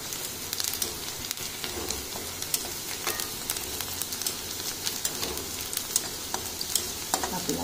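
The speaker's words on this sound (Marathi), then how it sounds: "कांद्याला असं फिरवत राहायचं, नाहीतर तो जळून जाईल।" Onion sautéing in a pan, with a continuous close sizzle and frying crackle and the scrape of stirring running steadily throughout, with no talking.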